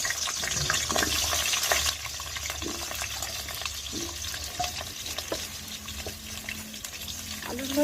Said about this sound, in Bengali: তেলটা গরম হয়ে গিয়েছে, এবার আমি আলুগুলো ভেজে নেব।